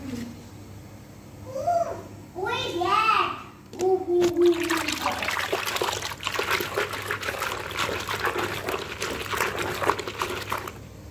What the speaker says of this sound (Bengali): স্কুলের ড্রেসগুলো ধুয়ে দিলাম